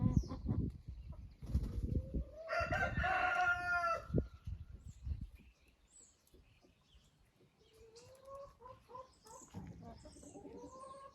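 Ameraucana chickens in a pen: a rooster crows loudly near the start amid clucking and rustling, then softer hen clucks and calls follow in a quieter stretch.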